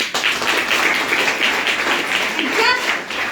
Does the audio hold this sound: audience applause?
yes